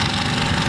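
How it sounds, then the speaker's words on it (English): A Ford-powered rear-engine rail dragster from Illinois runs at a paddle-tire drag event, a loud dense rumbling roar filling the short moment with constant throbbing vibration. "This awesome Ford-powered rear-engine rail out of the state of Illinois."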